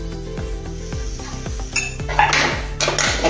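Potato stuffing for idli being mixed with a spoon in a metal pot, giving loud rhythmic scraping and clinking strokes roughly twice a second, close up, with no talk.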